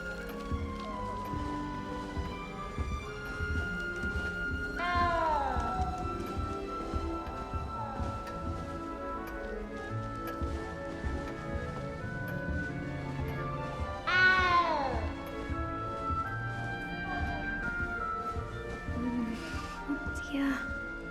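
A cat meows a few times amid the background music and ambience of Hogwarts Legacy, the meows rising clearly over the steady game score around the middle and two-thirds mark.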